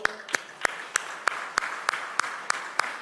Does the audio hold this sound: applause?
yes